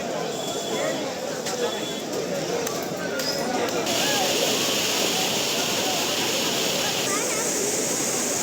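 Courtallam waterfalls in Tenkasi district running with steady flow, a continuous rushing spray of falling water with faint clicks and knocks, crowds of bathers around it, heard under a speaking voice.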